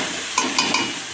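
Okra frying in a pan with onion, tomato and green chili makes a steady sizzle, broken by three brief scraping stirs.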